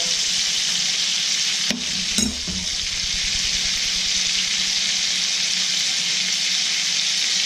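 Prime beef ribeye steak sears in a stainless steel All-Clad pan, giving a loud, steady sizzle that runs the whole time, broken by a couple of brief clanks near the start.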